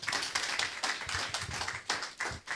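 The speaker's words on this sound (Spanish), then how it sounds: "vamos a recibir con un fuerte aplauso a nuestro pastor, José Rafael Sánchez." Applause for a pastor at a church service, a burst of brisk hand clapping from a small crowd with rhythmic surges that continue the whole time, fairly close and with no speech over it.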